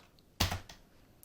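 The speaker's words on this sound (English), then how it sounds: "simply press space on your keyboard" A single press of the space bar on a computer keyboard, one sharp clack followed by a softer release click, close and alone in a quiet room.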